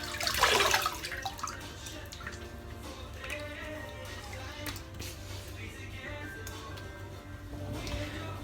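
Running tap water rinsing soap lather off: a louder gush at the start settles into a steady, close stream with small splashes throughout.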